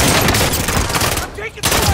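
Dense, loud gunfire from Call of Duty: Modern Warfare rattles almost nonstop in rapid bursts, with a brief gap before the shooting resumes.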